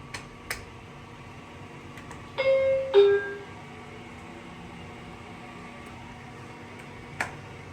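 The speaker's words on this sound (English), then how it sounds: "The floor passing chimes sound like a stopwatch." Two short tonal chimes from a TKE EOX traction elevator in a Raleigh parking garage, a quick stopwatch-like pair of floor-passing tones in a quiet machine hum, with faint clicks before and after.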